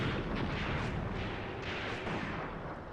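Artillery fire in a WW2 battle simulation game set during the Battle for Leningrad, heard as a dense, continuous rumble of booms and blasts rolling together at steady loudness, with no talk.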